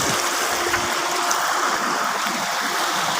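A river flowing through a creek in a mining area, a steady rushing wash of water heard up close and fairly loud, with no voices.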